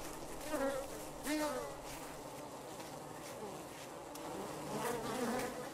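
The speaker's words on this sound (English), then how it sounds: "there's bees" Bees in the survival game Arid buzzing close by, a wavering insect drone that swells and fades as they move, with low background ambience and no talk.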